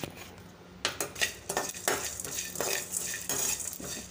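Chana dal, coriander seeds and cumin being dry-roasted in a pan, with dry grains rattling and a spoon scraping and clinking against the metal in irregular close strokes.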